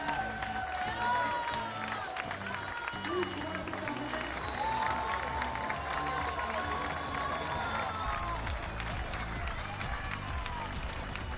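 A crowd applauds and claps at the finish and podium of the Transvulcania ultra marathon on La Palma, a sustained wash of clapping under music and a commentator's voice.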